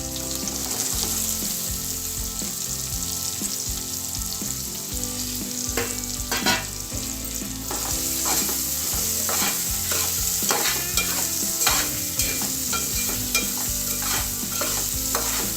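Onions and green chillies frying in oil for a brinjal and chana dal curry, a dense unbroken sizzle with frequent spatula scrapes and clatters against the pan, close and steady throughout with no voices.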